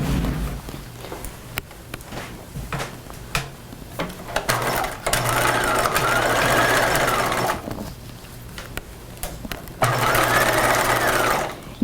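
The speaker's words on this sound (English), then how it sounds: "So let's go back over to the sewing machine." A sewing machine stitches a seam on a cropped retro jacket, running in rapid mechanical bursts separated by brief pauses and small clicks, close and loud with no talking.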